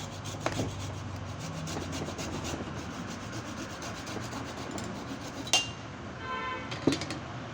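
A saw cuts through wood while an old chicken coop cage is rebuilt. Faint, steady rasping strokes rub along under a quiet background, broken by a couple of sharp knocks.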